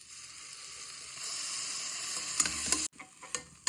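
Ground masala paste for biryani sizzles steadily in a pan, a soft continuous hiss broken near the end by a few sharp clinks and scrapes of stirring.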